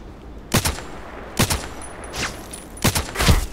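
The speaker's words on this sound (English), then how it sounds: "the shots are coming from the right" Gunfire in the shooter game Contract Wars, four separate sharp shots spaced about a second apart, fairly loud with the last one a quick double burst, heard alone without talk.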